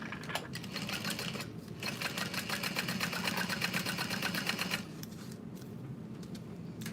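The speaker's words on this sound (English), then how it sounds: "as you're sewing" A sewing machine stitches a quarter-inch seam on a small Snow Drop bag, its rapid, even needle chatter running for a few seconds between quieter pauses and soft fabric handling.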